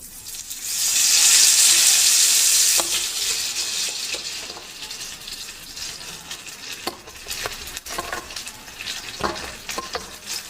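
Papaya pieces dropped into hot oil with nigella seeds and dried chilli burst into a loud hissing sizzle that slowly eases, followed by rhythmic spatula scrapes and clatter against the pan.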